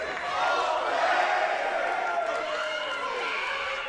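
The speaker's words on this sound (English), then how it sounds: "This crowd sounding their approval." Independent wrestling crowd cheering loudly in approval after a flying forearm by Will Allday, a continuous roar of many voices with shouts rising and falling across the hall.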